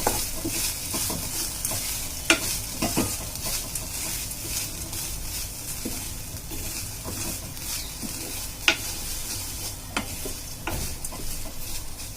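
Okra (bhindi) frying in a pan, a steady moderate sizzle with occasional sharp clicks and taps from stirring, and no talking.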